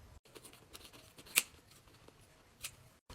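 Scissors snip through a DIY pop it fidget toy in one sharp, close cut, followed by a fainter second snip, with quiet handling in between.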